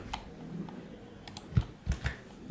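Sparse keystrokes and clicks on a computer keyboard, quiet and close, with irregular gaps and a few sharper taps near the end, with no talking.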